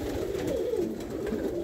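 A pigeon coos in low, rolling phrases close by at a pigeon loft, steady and continuous with no talking.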